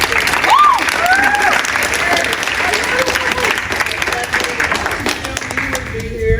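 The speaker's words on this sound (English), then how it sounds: "ladies, please give your parents a round of applause." Sustained, dense applause from a large crowd at a school athletic banquet, with scattered cheers and voices mixed in, steady throughout.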